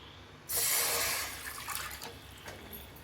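Water splashes and pours steadily into a cooking pot, starting abruptly, loud at first and then easing to a softer continuous trickle.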